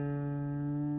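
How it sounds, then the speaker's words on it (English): A single plucked guitar string rings steadily for about a second while being tuned down, a fairly faint sustained tone fading slowly. "Now, remember we tune up, so I'm going to tune down"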